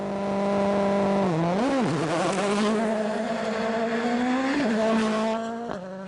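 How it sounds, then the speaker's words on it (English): A WRC rally car in Finland howls under hard acceleration from a stage start, its loud engine note climbing through the gears with sharp shifts and a brief dip, close and alone. "Sebastian hard on the gas for the start of the quickest rally of them all"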